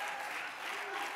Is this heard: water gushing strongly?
no